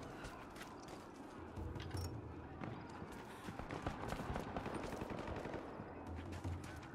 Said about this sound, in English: There are a lot of gunshots going on.